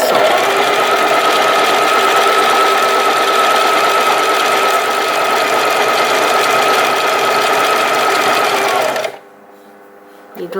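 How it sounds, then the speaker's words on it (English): A sewing machine stitches a folded T-shirt hem in one loud, continuous, steady whir up close, stopping abruptly near the end. "So 2 folds and sew."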